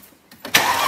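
A Mercedes CL500 engine cranks briefly and catches, rising suddenly into a loud running roar.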